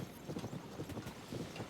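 Steady, quick clopping of a horse's hooves in the video game Zelda: Tears of the Kingdom, a continuous rhythmic gallop at moderate volume.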